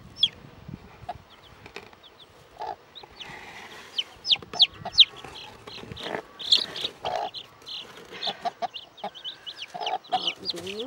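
A broody hen clucks softly among 3-day-old chicks, which cheep in rapid high peeps throughout, the clucks low and intermittent and the cheeping growing busier toward the end.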